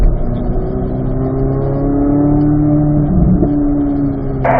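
A car engine accelerates hard down a driving track straightaway, a loud close drone whose rising harmonic pitch climbs steadily, with a brief shift near the end.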